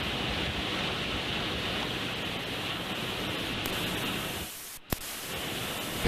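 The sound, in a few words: hurricane rain and wind during Hurricane Hermine landfall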